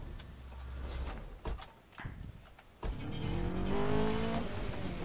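A Lancia car engine in the Need for Speed Most Wanted racing game, idling low and then rising into a louder, sustained revving drone.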